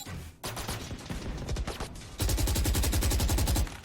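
Gunfire in the Valorant video game during a competitive match: loud, close bursts of rapid automatic shots, a short volley followed by a longer sustained stream of rhythmic fire.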